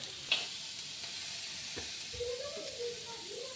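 Chopped onion for mutton curry fries gently in a pan until reddish brown, a faint low sizzle with occasional soft stirring scrapes, heard close but quiet.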